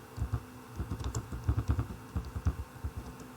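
Rapid clicks and taps on a computer keyboard during a PowerPoint lesson, coming in uneven bursts of keystrokes at close range, with no voices.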